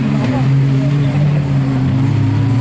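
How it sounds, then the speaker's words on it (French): Touring cars race on the Caden circuit during a 2013 Tourisme Cup round, a loud, continuous engine drone holding a steady pitch, with a commentator speaking over it throughout. "il arrivait très très fort Hervé là-bas dans le haut du circuit"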